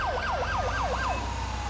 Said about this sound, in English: I love the Yelp siren on this thing.